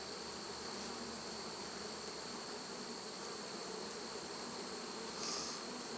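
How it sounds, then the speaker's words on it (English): Honeybees buzz steadily during a hive inspection of winter bees on brood frames, a faint, continuous insect hum with a brief slightly louder swell near the end. "These are winter bees that we're raising here"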